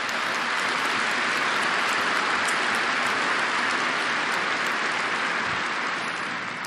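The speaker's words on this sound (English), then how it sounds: "we want to give you a chance to applaud them" A large audience at a Berkshire meeting applauds the company's managers, steady, dense clapping from a big crowd that holds evenly throughout and fades slightly at the end.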